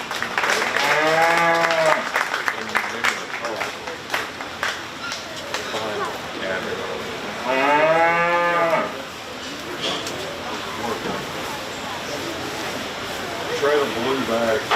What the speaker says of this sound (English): Let's give these exhibitors another nice round of applause.